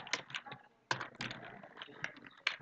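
Fingers tap out short bursts of keystrokes on a computer keyboard, quiet and close, with small pauses between the clusters of clicks.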